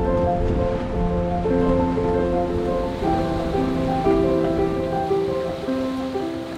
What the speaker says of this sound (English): We rapidly had to reef as this rain squall brought 28 knots of wind all of a sudden.